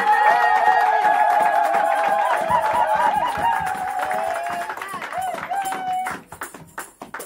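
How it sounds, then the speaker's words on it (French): A church congregation cheers and claps for Jesus during a pastor's service, with loud overlapping shouts, sustained voices and scattered claps that fade toward the end. "Des acclamations à Jésus."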